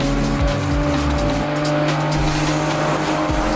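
A race car in a highway racing video game roars at a steady loud engine pitch, with tires squealing and a crash impact breaking through the continuous engine drone.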